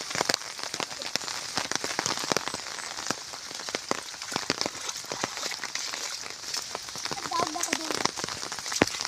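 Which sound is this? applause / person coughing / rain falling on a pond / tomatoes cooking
rain falling on a pond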